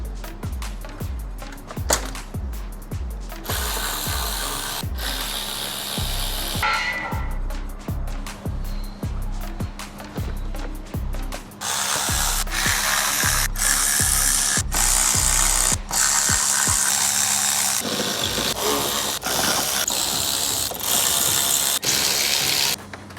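A powered ratchet backs bolts out of the bumper on a wrecked 2022 Range Rover Sport, first in a fast rhythmic run of pulsing bursts, then in a loud, continuous whirring spin, close and without talk.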